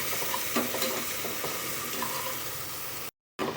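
Crushed spices and crab rasam ingredients sauté in a pan with steady sizzling and occasional stirring scrapes, close and continuous, with a brief cut to silence near the end.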